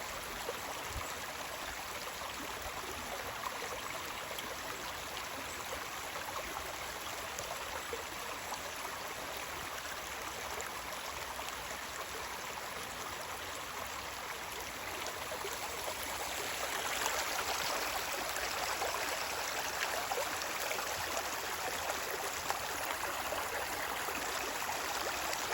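A woodland stream flows steadily on a rainy day, a soft continuous babble and trickle that grows slightly fuller toward the end, with no voices.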